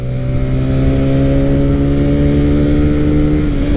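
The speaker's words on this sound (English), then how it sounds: "this does have a nice exhaust note to it" A TVS Raider 125cc motorcycle engine drones loudly up close, its exhaust note holding steady then rising slightly as it revs.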